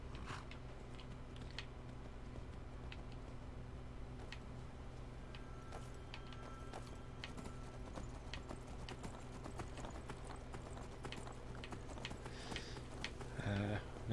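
Horse hooves clip-clop steadily in Skyrim as a newly bought saddled horse walks along, an even rhythmic patter of hoofbeats with faint game ambience, and a voice talks over it at times.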